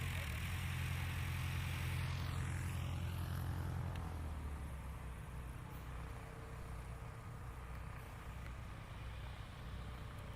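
A STOL airplane taxis off the runway at a STOL competition practice, its propeller engine droning steadily and fairly far off, with a lower tone fading after a few seconds beneath a broad outdoor wash.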